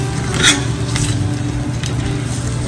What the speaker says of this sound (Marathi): तेलामध्ये फ्राय करून घ्यायची